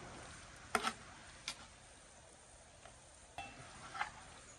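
A browned meat and vegetable mixture being stirred in an overfull pan for loaded smoked baked beans, with a few scraping strokes of a utensil over a soft background sizzle.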